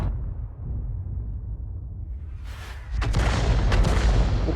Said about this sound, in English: both Arty were firing in the same general direction